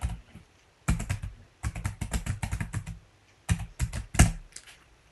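Rapid clusters of close computer keyboard keystrokes typing a website address, in bursts of quick clicks separated by short pauses, with no voices.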